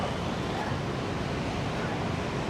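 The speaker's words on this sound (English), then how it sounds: "the ocean looks wild" Ocean waves surge onto the beach at Da Nang in a dense, constant roar, mixed with strong wind buffeting the microphone and no distinct breaks between swells.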